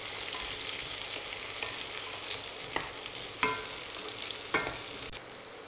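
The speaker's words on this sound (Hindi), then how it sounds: "ब्राउन हो गया है तो इसी में ये कद्दू का पीसेस है, इसको डाल के बढ़िया से इसको चला चला के भून लेते हैं इस तरह से।" Pumpkin pieces stir-fried with browned onions in a hot pan, a steady loud sizzle running throughout with a few sharp scraping clicks of the spoon near the end.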